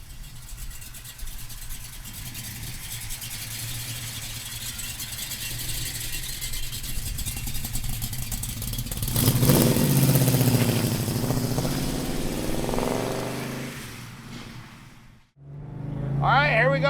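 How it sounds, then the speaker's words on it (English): A 1967 Chevrolet Chevelle with an all-aluminum 427 ZL1 V8 rumbles at a steady idle, then swells into a louder rev near the middle before dropping off sharply, with a brief burst of throttle at the end. "67 Chevelle 427. ZL1, all aluminum power, making power, driving great"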